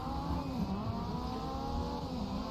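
A Honda race car engine in the Grid Legends racing game drones with a loud, sustained, close tone whose pitch wavers slightly as the car holds speed.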